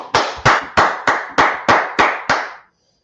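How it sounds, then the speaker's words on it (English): Eight loud, evenly spaced hand claps ring out close up in a steady rhythm and stop sharply, leaving silence. They come from a brotherhood class gathering. "Clap it up for the Lord."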